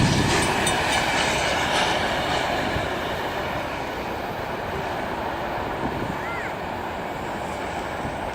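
A freight train with boxcars and tank cars rolls past nearby, making a loud, continuous rumble with rhythmic clickety-clack from the wheels and faint squeals, and no talking.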